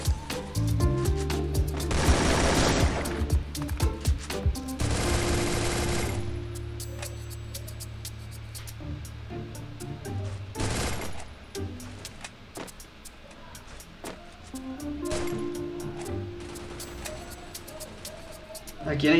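Gunfire in the game Free Fire comes as bursts of automatic shots mixed with a steady vehicle engine drone and other game effects. The bursts are loud and clustered, with gaps of quieter engine hum between them.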